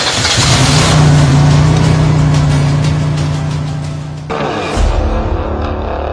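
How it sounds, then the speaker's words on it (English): A Ford Ranger pickup truck engine runs with a steady, loud drone that holds for about four seconds, then the tone drops abruptly and settles into a lower rumble. "my second car, Ford Ranger, a pick-up car."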